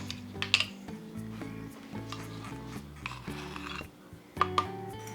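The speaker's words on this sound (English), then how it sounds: "and mix it together." Dry keto pancake ingredients (coconut flour, monk fruit, salt and cinnamon) are stirred together in a bowl, giving soft scraping with a few sharp utensil clinks against the bowl, all under steady background music.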